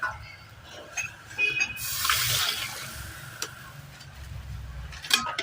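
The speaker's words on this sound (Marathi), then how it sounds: "आता दोन तांबे अजून पाणी टाकून घ्यायचंय" Water is poured into a pot of cooking chicken, with a brief rushing splash in the middle set among faint clinks and soft kitchen taps.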